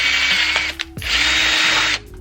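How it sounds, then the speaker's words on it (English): Power drill boring a hole during installation of an AeroFlow side and front splitter on an Infiniti G37 coupe: two loud sustained whining bursts, close up, with a brief pause between them. "drill the hole"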